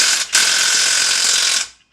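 A ratchet loosens an exhaust nut on a B8 Audi S4 during an AWE exhaust install, giving one loud, close, fast clicking burst that runs about a second and a half before stopping, with no talk.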